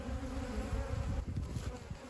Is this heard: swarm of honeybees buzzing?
yes